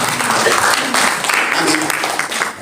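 A church congregation at a prayer and fasting service applauds, a dense burst of clapping with voices mixed in, loud and close before fading slightly.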